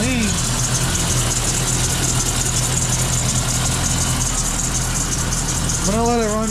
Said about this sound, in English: I'm gonna let it run for a little bit, see if it idles out.